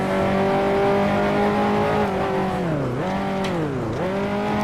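A 1955 Formula 1 car in the Grand Prix Legends sim at the British Grand Prix, its engine droning steadily at high revs, then dipping twice as it shifts up into higher gears and climbing again, loud and close.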